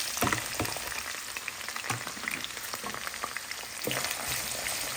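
Boiled beef liver frying with onions and garam masala for kolija bhuna, a dense crackling sizzle with irregular scraping stirs, steady and close throughout.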